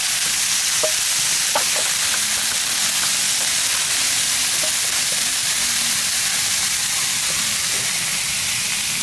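Crispy genjer (yellow velvetleaf) fries loudly in hot oil as it is stirred, with a dense, continuous hiss and scattered clicks of the utensil against the pan.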